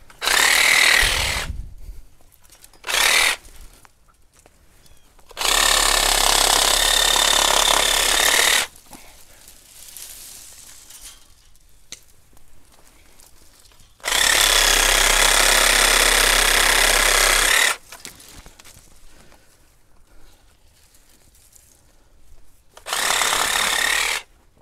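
A DeWalt power saw cuts in loud, harsh bursts of a few seconds each, several separate cuts broken by quieter gaps, close to the listener with no talking.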